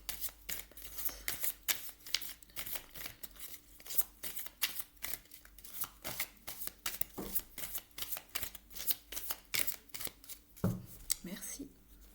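Lise Bartoli oracle cards are shuffled in a fast, quiet run of crisp flicks and riffles that continue steadily, close by.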